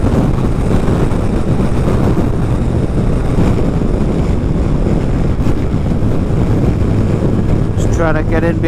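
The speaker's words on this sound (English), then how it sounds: "Oh, massive crosswinds there." Strong crosswind buffets the microphone while riding a motorbike through the Scottish Highlands around Loch Lomond and Glen Coe, a loud continuous roar of wind blast steady throughout, with no clear voice over it.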